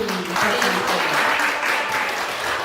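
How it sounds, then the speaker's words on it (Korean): An audience at a staged reading claps together in a brief, dense burst of applause filling the room. "정말 박수"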